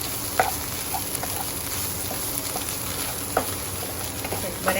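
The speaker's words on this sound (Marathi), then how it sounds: "बरें मातशें भाजून घेता" Green chilies sizzling steadily in hot oil in a pan while a Goan fish cutlet masala is prepared, a constant close crackle with a few soft stirring knocks.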